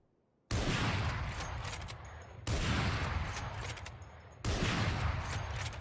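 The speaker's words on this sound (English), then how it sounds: "The Operator. This is your standard big boy sniper" Operator sniper rifle from the game Valorant firing three loud, booming single shots about two seconds apart, each with a long echoing tail.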